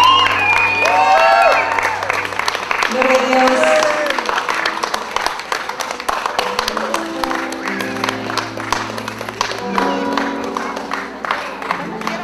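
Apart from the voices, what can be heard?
audience applause at a wedding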